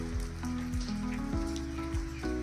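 Rain falls steadily over a Konkan village, a dense even hiss of drops running the whole time, with sustained tonal hums that slide in pitch layered over it.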